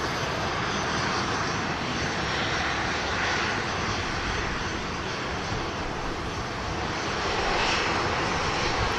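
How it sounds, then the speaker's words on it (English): Aircraft engines roar steadily through a take-off climb at an airport, a loud continuous broadband rumble that swells slightly near the end, with no voices. "Positive climb, and the gear goes up on the triple, sounding beautiful"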